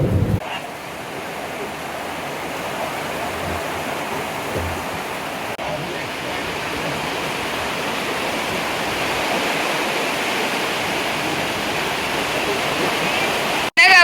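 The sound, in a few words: heavy rain falling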